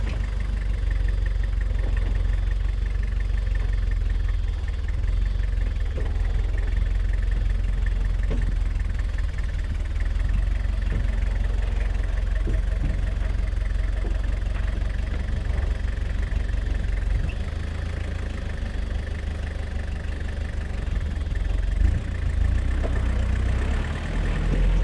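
A 1985 Toyota 4Runner with a 2.4 turbo diesel and modified suspension idles steadily with a low, knocking diesel rumble throughout, loud and close, as it backs up over off-road terrain.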